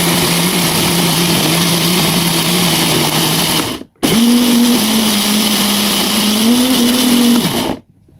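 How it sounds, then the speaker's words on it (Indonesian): Electric blender grinding spice paste for tongseng, a loud steady whirring motor that runs for several seconds, cuts off briefly, then restarts and runs again before stopping. "Lalu blender semuanya sampai benar-benar halus."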